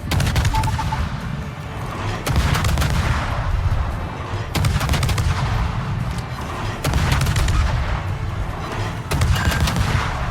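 Naval guns on a Japanese destroyer in a warship video game fire in repeated loud salvos, each a heavy boom and then a rumbling decay, recurring every couple of seconds with no talk.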